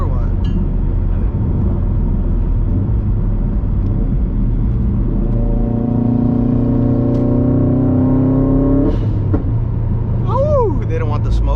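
A 2018 Subaru STI with a loud aftermarket exhaust drones and rumbles steadily through the drive, its engine pitch climbing then dropping sharply as it revs, with people talking over it inside the car.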